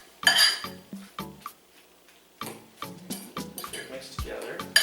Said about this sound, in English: Now I'm actually just mixing and looking for big chunks so I can get away with a fork.